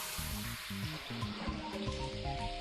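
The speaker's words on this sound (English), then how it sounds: "The moment I did, the lonely bathroom hall was filled with the sound of running water." A shower runs in a bathroom in the video game Seabed, a steady hiss of spraying water played beneath soft, low background music.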